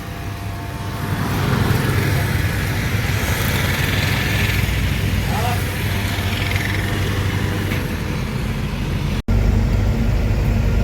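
A Tamil Nadu-registered vehicle passes through Kalamna market in Nagpur, its engine a loud, continuous rumbling drone that holds steady for several seconds before a brief dropout.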